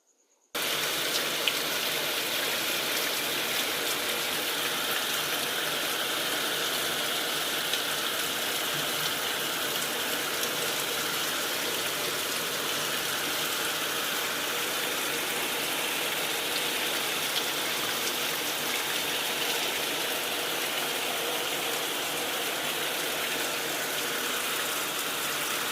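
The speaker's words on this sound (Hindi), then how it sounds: "बहुत तेज बारिश हो रही है आज" Heavy rain pours steadily and loudly for the whole stretch, a dense, unbroken hiss of water falling and splashing on surfaces with no voices over it.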